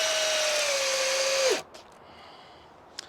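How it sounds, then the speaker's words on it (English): A Ridgid brushed drill driver on a 4 amp hour max output battery whines steadily as it drives a screw in, close and loud for about a second and a half before it stops abruptly, followed by faint clicks. "let's try to drive it in, see how further it drives it in with the 4 amp hour max output battery"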